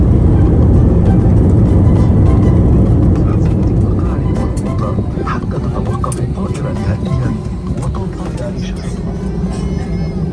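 Loud, steady cabin roar of an airliner touching down and rolling out at the end of a flight from Abu Dhabi to Cochin, a dense broadband rumble that eases slightly over time, with voices faintly audible inside the cabin.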